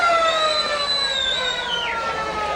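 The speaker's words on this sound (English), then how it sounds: "That is the siren for the first quarter, but Salmon is going to take the kick" A sustained football ground siren sounds to end the first quarter of a 1989 NTFL versus Essendon Australia Day match, loud and steady with layered harmonic tones that bend slightly near the end.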